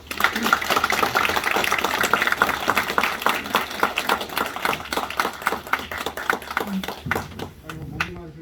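An audience applauding after a speech at a Democratic Party election office meeting in Gwangyang, steady dense clapping that thins toward the end, with a voice talking over it.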